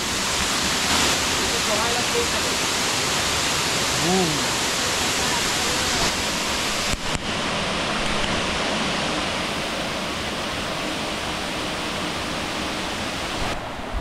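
A waterfall near Guhagar in the Konkan region roars as a continuous, broad rush of falling water heard close, steady and loud throughout with no clear voices over it.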